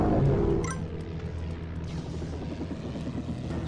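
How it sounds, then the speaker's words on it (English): Helicopters in the Sky Battles video game drone with a steady low rotor rumble that fills the clip, with a louder burst of game effects at the start. "these blooming helicopters are a menace to society"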